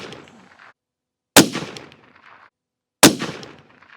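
Two sharp, loud rifle shots from a CVA Cascade XT chambered in .308 Winchester, fired about 1.7 seconds apart at a range target, each a sudden crack with a short rolling echo, after a fainter earlier tail.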